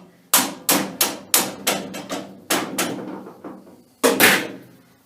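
A hammer taps a metal centre lathe part in a quick series of sharp, ringing knocks, about ten strikes with short pauses, then one last louder blow after a brief gap.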